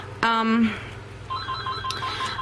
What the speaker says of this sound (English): And there's my phone that I am not gonna answer right now.